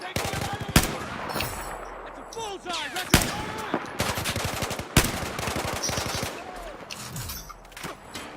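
Rapid automatic gunfire in the video game Battlefield 4, bursts of close, sharp shots mixed with louder single cracks and distant rattling fire, voices talking briefly between volleys.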